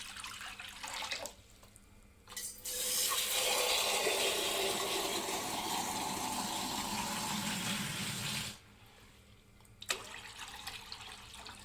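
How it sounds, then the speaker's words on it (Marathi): Two pots of water go into a kadai on a gas stove: brief splashes, then a loud, continuous gushing pour for several seconds that stops abruptly, followed by a few faint drips and clinks. No one speaks. "तर मी 2 तांबे पाणी टाकलेले आहे।"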